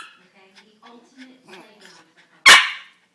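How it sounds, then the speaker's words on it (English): A dog gives a single loud, sharp bark at the end, after a stretch of quiet indoor voices speaking softly. "He's a crazy dog,"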